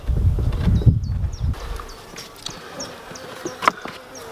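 Honey bees buzz around an open beehive with frames being handled, a close, steady drone with darting flybys and a few sharp knocks, no voices.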